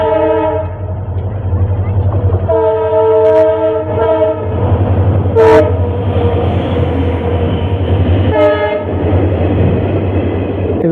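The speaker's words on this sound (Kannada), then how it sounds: "ಹಾಂ ಎಸ್, ಅದೇ ಹೊಸಪೇಟೆ ಹರಿಹರ ಪ್ಯಾಸೆಂಜರ್." A Hosapete–Harihara passenger train rolls past a closed railway level-crossing gate at Chitravadi with a steady, loud rumble, sounding its horn in long blasts near the start and again briefly toward the end.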